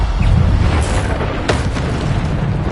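A loud, continuous booming blast from the Bombarda spell in the video game Hogwarts Legacy, filling the clip with dense low rumble and a few sharper bursts on top.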